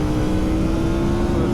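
An Aprilia Tuono V4 1100 motorcycle engine runs hard on a racetrack, giving a loud, steady high-revving drone with a sustained tone across the short burst.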